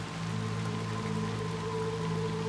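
Steady rain falls in the video game Little Nightmares 2, a constant dense patter on surfaces with a low droning ambience underneath and no talking.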